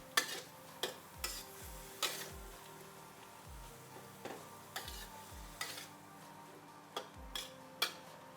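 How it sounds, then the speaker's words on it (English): Tomatoes simmering in a pot, with faint bubbling and sizzling under a steady series of soft, irregular ticks and pops, quiet and close with no talking. "And we'll leave these tomatoes to simmer away for a little while."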